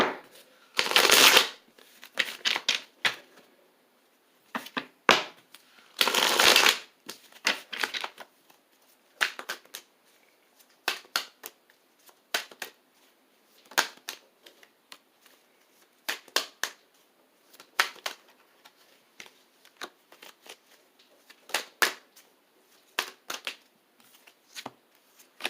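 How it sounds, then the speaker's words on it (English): Tarot cards being shuffled by hand, a series of crisp riffling bursts and soft flicking taps in irregular clusters, close and fairly quiet with no talking. "So now we're going to pull some tarot cards,"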